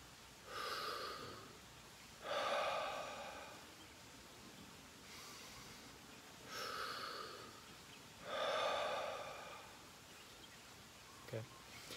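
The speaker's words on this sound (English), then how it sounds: "And then we'll put it together for two breaths." Rhythmic breathwork exercise breaths, with four strong airy breaths in paired pulses, close and fairly loud over a quiet background.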